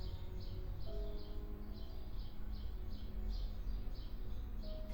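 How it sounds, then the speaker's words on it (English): Birds sing outdoors in a quiet garden under restoration, with repeated short high chirps and trills at a moderate distance over a steady low background hum. "It's to stand there and listen to the birds."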